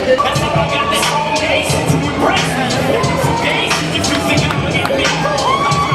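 Crowd at a weightlifting event cheering a lifter, a loud mix of cheers, whistles and babble with scattered bangs, and voices talking over it.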